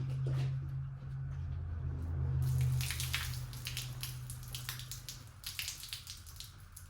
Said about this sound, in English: There's a lot of water in this headlight